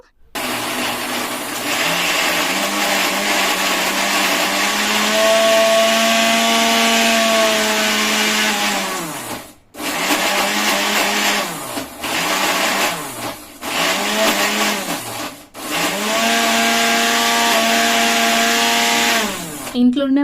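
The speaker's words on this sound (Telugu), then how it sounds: "మళ్ళీ అయితే మిక్సీ వాటేస్తున్నాను నేను" A mixer grinder whirs loudly with a high motor whine, switched off and on several times in short bursts before running steadily again.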